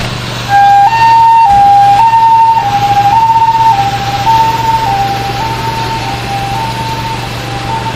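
A health-centre ambulance siren wails loud and close during a fire drill rescue at a traditional folk village, its two-tone pitch alternating steadily and gradually easing as it moves off.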